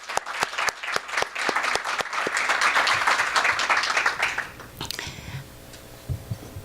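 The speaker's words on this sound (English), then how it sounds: "So I wanted us to give one more round of applause to all of you and your dreams." Award participants at a girls' leadership academy presentation receive a round of applause: sharp individual claps build into a dense, close burst, then fade to scattered claps and faint murmuring.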